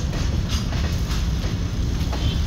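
A train rolls past at a rail level crossing on a narrow local road, a steady, loud low rumble with faint rhythmic wheel clatter running throughout, no voices.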